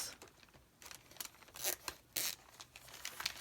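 Paper being cut into pieces for a journal folder, close crisp snips and rustles in irregular bursts, quiet and without talk.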